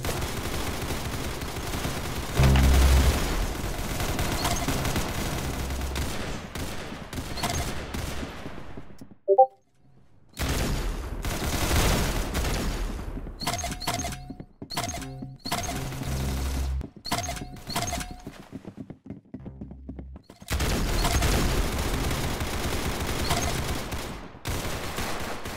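Rapid gunfire rattles out in loud, dense volleys, broken by a brief lull near the middle and a short gap before a final sustained burst.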